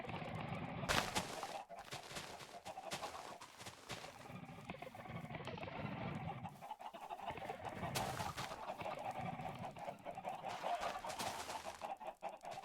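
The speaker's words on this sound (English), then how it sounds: "Just keep on spawning those chickens over here." Chickens spawned in a modded Minecraft world cluck and squawk continuously over a busy game backdrop, with sharp bursts of clucking standing out at moderate loudness.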